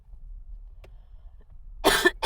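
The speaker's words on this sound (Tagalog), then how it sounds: "Makulit yung ubo ko." Near the end, a person with an illness coughs twice close to the mic, each a short harsh burst, with one following quickly after the other. The room is otherwise quiet.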